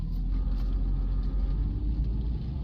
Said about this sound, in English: Rev it up a little bit and slowly let off the clutch